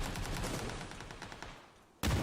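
A grenade blast in a competitive multiplayer shooter match: rapid gunfire crackles and fades for about two seconds, then a sudden, loud explosion hits right at the end.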